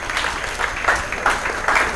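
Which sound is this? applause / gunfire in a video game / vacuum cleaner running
applause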